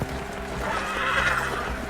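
A warhorse ridden by the Mountain in Game of Thrones lets out a loud, close whinny that rises and trembles for about two seconds, with hoofbeats underneath.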